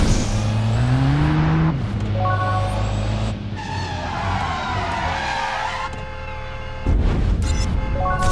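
A car in the Driver San Francisco game surges forward on a speed boost, its engine note climbing loudly in pitch, then tyres skid and screech before the roar swells again near the end, with no talking.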